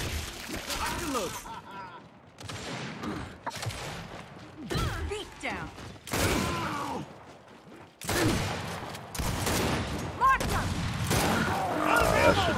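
Gunfire from the shooter video game Gears 5 in a free-for-all match, with repeated loud bursts of shots separated by short gaps across the clip.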